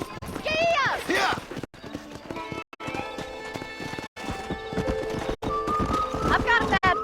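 Horse hooves clip-clop at a gallop with sharp neighs and whinnies in the Red Dead Redemption video game, close and loud, over a busy game soundscape with talking voices.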